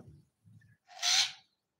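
A single harsh, raspy alarm call from a bird in an aviary bursts out loud and close, preceded by a few low muffled thumps; otherwise quiet.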